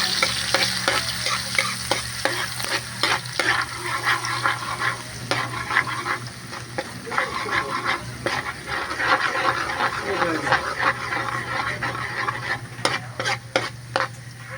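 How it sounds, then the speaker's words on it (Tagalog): Garlic and onion sautéing in a pan as the base for a Filipino beef offal stew, a close, continuous sizzle broken by frequent rhythmic scrapes and clacks of a spatula stirring, with no talk over it. "Pangkutsa muna tayo ng bawang sibuyas"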